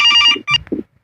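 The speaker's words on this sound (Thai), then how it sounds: "เราก็ต้องรับโทรศัพท์นะ" A telephone rings in a horror video game, a short electronic ring burst followed by a brief pause and a second quick ring, loud and close, with no talk.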